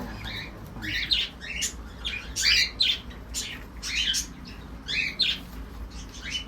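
A pair of birds chirps and squawks nearby in repeated short bursts over a low background hum.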